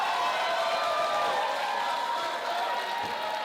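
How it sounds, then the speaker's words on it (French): A wrestling crowd at a JCW show chants for Shelton Benjamin, a loud, dense wall of voices filling the arena without a break; a commentator is also heard speaking. "on entend la foule scander pour Shelton Benjamin"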